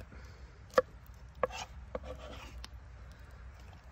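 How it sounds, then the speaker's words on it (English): A knife rough-chops hot peppers on a board, giving a few sparse, sharp cutting strikes close by with quiet gaps between them and no talking. "And I'm rough chopping them"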